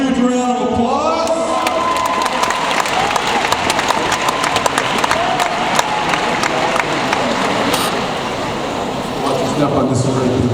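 A lively student audience claps and cheers loudly for volunteers at a stage hypnosis show, dense and continuous, with whoops and shouts over the clapping for about ten seconds.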